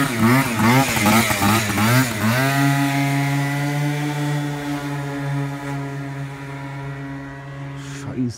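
A Yamaha Aerox scooter engine revs hard with a warbling, rising whine, then holds a loud, steady buzzing drone before cutting off at the end.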